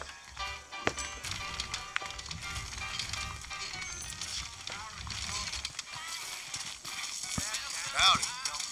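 Horse hooves clip-clop steadily in Red Dead Redemption under ambient game music and effects, with a few sharper knocks and a brief swell near the end.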